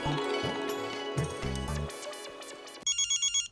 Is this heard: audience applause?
no